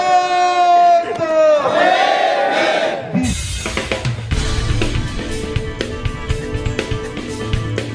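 Large crowd of Delhi University employees at a protest outside the university, voices rising in a loud shout that gives way to dense, continuous chanting and crowd noise throughout.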